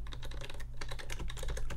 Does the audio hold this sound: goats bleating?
no